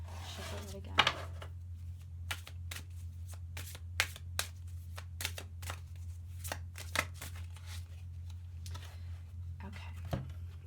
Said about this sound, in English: Shuffle it again.